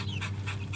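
Dixie the dog pants in quick, steady breaths up close, a rapid rhythmic huffing that carries through the short moment with no voices over it.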